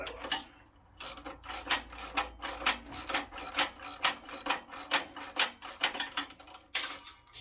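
A ratchet wrench snugging up bolts on a Woodland Mills HM122 sawmill head, rapid clicking bursts in quick repeated strokes, close and fairly quiet, with no voices.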